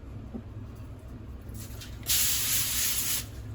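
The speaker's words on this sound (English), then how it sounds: "We're just gonna spray that down, make sure it doesn't stick." Cooking spray hisses loudly onto a baking pan for about a second and a half, close by, after a quieter moment of faint background noise.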